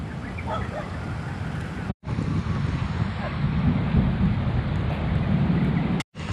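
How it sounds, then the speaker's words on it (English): Rain beginning outdoors in a durian grove at Bukit Lanjan: a steady, close wash of noise with a gusty, windy texture, broken by two brief dropouts. "it's starting to rain"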